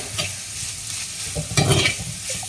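Crushed small shallots with green chillies sizzle in a pan for a prawn curry, heard up close with a steady crackle. Scraping stirs come through clearly and swell into a louder burst near the middle, with no talking.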